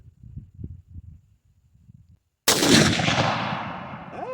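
A single loud, close rifle shot from a BCA bolt-action rifle upper, fired after a quiet stretch of low rustling and ending in a long, ringing decay.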